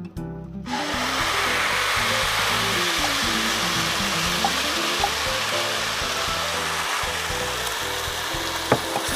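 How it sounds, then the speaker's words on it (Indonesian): Ground spice paste for Balinese spiced eggs sizzles loudly in hot oil from the moment it hits the pan, a steady frying hiss with scraping stirs and a sharp clink near the end. "Saya tumis dulu bumbu yang sudah dihaluskan."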